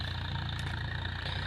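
A Massey Ferguson 7250 tractor engine idles close by, a steady low chugging rumble with no talk.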